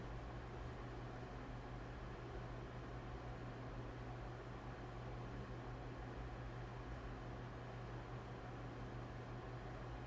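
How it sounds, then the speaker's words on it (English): Electric fan running in a room, a faint, even whooshing hum with a low steady drone that holds unchanged throughout, with no talk. "we have a bit of a sound in the background. That's my fan going off"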